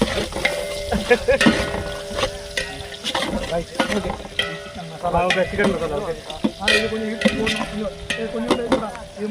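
Onions sizzle steadily in hot oil for mushroom biryani cooked outdoors in a field, while a utensil scrapes and stirs the pan, with frequent clattering strokes, close up and fairly loud.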